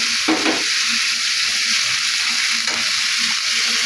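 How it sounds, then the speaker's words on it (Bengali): A ground paste of ginger, garlic and cumin sizzles loudly in hot oil, a constant close hiss with a few soft stirring knocks. "এবার দিয়ে দেবো আদা রসুন আর জিরে একসাথে বাটা"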